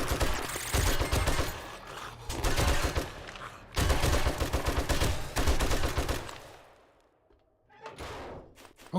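An M60 machine gun fires in a video game, bursts of loud rapid automatic gunfire with dense clatter that run for several seconds, pause, then resume briefly.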